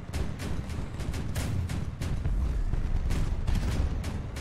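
Rapier weapons firing in the Crossout vehicle combat game, a steady rapid stream of gunfire shots with sharp repeated bursts layered over a rumbling battle background, moderately loud with no talk.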